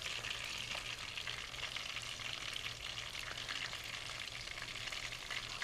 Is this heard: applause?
no